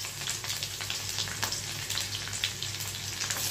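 Whole garlic and black cumin fry in hot oil, making a steady, fairly close sizzle with small crackling pops throughout and no talking.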